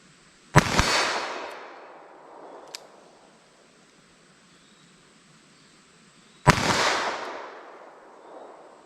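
Two loud, sharp gunshots from a snub-nose revolver firing 9mm+P Cor-Bon Pow'R Ball rounds, spaced about six seconds apart, each a close crack followed by a decaying outdoor echo.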